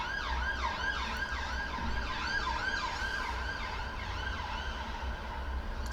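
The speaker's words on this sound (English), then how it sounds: "Sirens again." Ambulance sirens wail through a city street, their rising and falling tones sweeping steadily over a low traffic rumble at moderate distance, continuous for the whole stretch.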